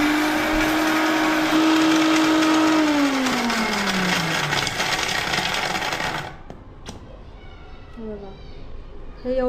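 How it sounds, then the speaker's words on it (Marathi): A kitchen mixer grinder whirs loudly as it grinds coconut, its motor pitch sliding down as it slows, then cuts off abruptly, followed by quieter kitchen sounds. "आधी मी खोबरं वाटून घेते."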